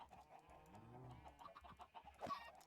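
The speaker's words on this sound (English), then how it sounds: "That's a chicken that got out." A chicken in the video game Minecraft clucks a few times at mid distance, short irregular calls over a faint background, with no voices present.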